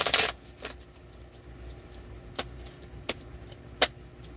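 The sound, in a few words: shuffling tarot cards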